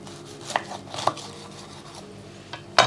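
A knife cuts through a sealed roast lamb wrap with melted cheese inside, producing several crisp, crunchy chops and scraping strokes close up, with a sharper cut at the end and no talking.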